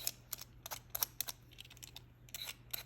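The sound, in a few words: knife slicing cucumbers into circles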